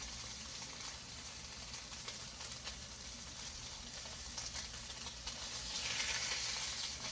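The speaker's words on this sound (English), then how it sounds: "you want to sear both sides and then try to get as much as the sides seared also" Filet mignon steak searing in a hot pan, an even, fairly quiet hiss that holds steady and swells slightly near the end, with no voices.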